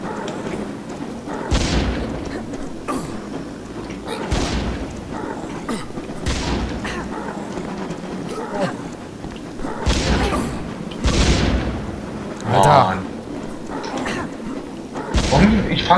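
Explosions in the video game Final Exam go off as several heavy booms and thuds spaced a few seconds apart, loud and close, with voices talking over and between them.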